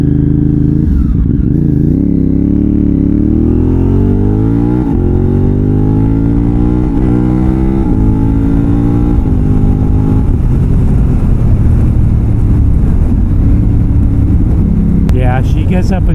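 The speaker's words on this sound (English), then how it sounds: "She gets up and goes when you open that throttle up." A Yamaha X-Cape 1200 adventure motorcycle pulls away with the throttle opened. The engine note climbs in a loud, close sweep of rising revs, then settles into a steady rumble with some clatter.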